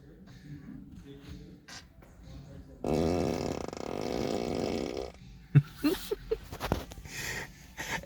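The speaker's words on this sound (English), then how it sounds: "Okay, fart on demand. Let's see fart on turn signal." Whoopee-cushion fart sound effect played from a Tesla car's speakers, a loud sustained buzzing raspy blast lasting a couple of seconds, heard close in the cabin, with scattered knocks and brief vocal sounds around it.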